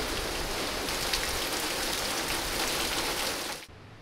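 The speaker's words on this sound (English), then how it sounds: "it started pouring down with rain" Heavy tropical rain pours down on the island of Bali, a dense, steady hiss of close rainfall that cuts off abruptly near the end.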